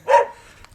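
A single sharp dog bark rings out close by at cattle sheds along a canal walk in Staffordshire, a brief loud yelp followed by quiet.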